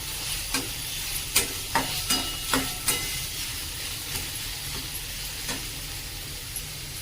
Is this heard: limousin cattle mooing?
no